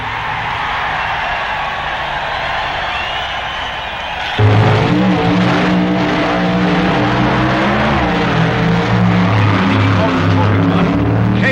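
A drag racing car at the 1965 NHRA Winternationals roars loud and close, a flat engine drone that jumps to a harsher, heavier tone partway through and holds steady, with a narrator talking over it.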